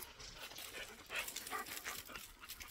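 Several dogs roaming a farm where Mangalarga Marchador fillies are kept pant and whimper nearby in short, uneven bursts, with no one speaking.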